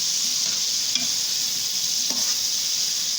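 Potatoes being stirred into spinach and tomatoes frying in a pan for aloo palak, giving a steady close sizzle with a couple of soft scraping stirs, no voices.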